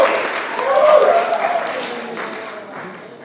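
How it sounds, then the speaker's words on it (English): An audience at a variety show in Piper's Opera House, Virginia City, Nevada claps in a brief round, heard under cheers and voices, rising then fading. "please give a round of applause to my right hand"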